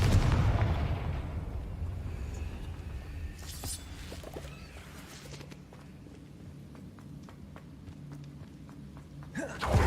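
A Confringo fire spell exploding in the Hogwarts Legacy video game, a loud booming blast at the start that rumbles and fades into low ambient game sound, followed by another sharp burst at the end.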